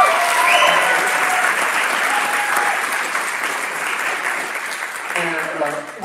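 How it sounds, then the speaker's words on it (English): A jazz ensemble concert audience applauds, a dense, loud wash of clapping that holds steady across the whole stretch before easing slightly at the end. "So please give a big hand for Ethan Bean."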